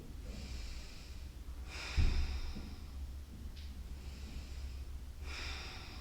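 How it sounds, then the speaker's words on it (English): Slow, deep nasal breathing during a hatha yoga pose, two or three long, airy inhales and exhales, close and quiet, with no talking. "3 deep breaths here."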